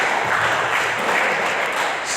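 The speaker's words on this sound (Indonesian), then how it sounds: "Tepuk tangan untuk Tuhan kita Yesus Kristus" A church congregation applauds together, producing a dense, continuous wash of clapping that holds steady and loud from start to finish, with no voice audible over it.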